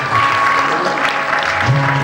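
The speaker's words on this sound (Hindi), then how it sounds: "ताली बजते रहनी चाहिए," Audience applause at an inauguration event, dense continuous clapping from a crowd, fairly loud and close, with a voice speaking over it and a steady tonal hum beneath.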